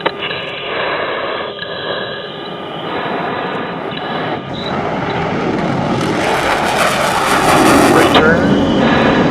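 Air Force Thunderbirds jet climbing out just after an afterburner takeoff, a steady loud roar that swells and brightens into a hissing rush, with a person talking over it.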